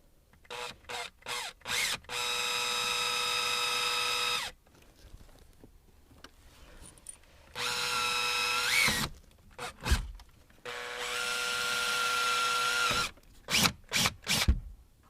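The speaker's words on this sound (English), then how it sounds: "now we drill that out to a 1/4 inch." Several bursts of power drilling a 1/4 inch hole in a Toyota Tundra while installing a camera and dash kit, short pulses and two long steady runs with a high whine, separated by quiet pauses.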